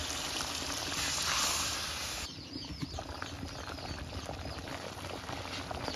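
Pabda fish curry simmers in a pan of well-fried spice paste, a steady close bubbling and sizzling hiss that is loud at first, then continues more softly with small crackles and pops.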